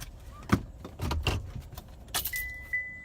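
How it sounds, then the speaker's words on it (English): Pickup truck coming to a stop on a hillside property, followed by the clicks and thumps of the driver getting out, a door handled and a steady electronic door chime, all close with no talk. "I think I'll stop the truck and hop out."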